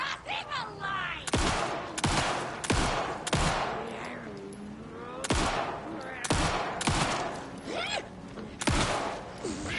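Gunfire in Alan Wake 2: a string of sharp, loud single shots spaced unevenly, each cutting through a quieter background of game ambience and faint voice sounds.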